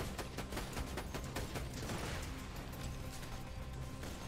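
Gunfire in Borderlands 2 comes as a dense stream of rapid shots, the cracks running together in a steady stream under a thick, noisy layer of game sound.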